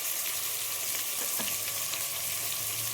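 Onions frying in a pan with a little salt for biryani, giving a steady, close, even sizzle that runs unbroken the whole time with faint stirring and no voices.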